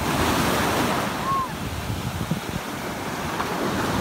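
Steady roar of sea waves and rushing water with wind buffeting the microphone; a constant, loud churning surge with no clear breaks.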